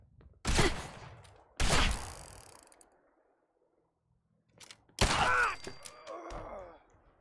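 Loud, close bursts of video game gunfire come in three separate volleys, each a sharp blast trailing into a mechanical rattle, with near silence between them.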